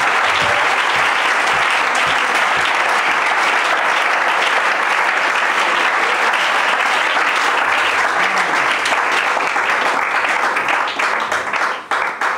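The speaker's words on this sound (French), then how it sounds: "Acclamons pour lui." A large crowd at an Easter Christian worship gathering bursts into loud, sustained applause and clapping that fills the space for over twelve seconds before tapering at the very end.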